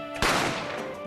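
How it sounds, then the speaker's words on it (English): A single sharp gunshot in The Great Ace Attorney Chronicles cracks out loud and close, then leaves a long ringing tail of reverberation. "A gunshot rang out"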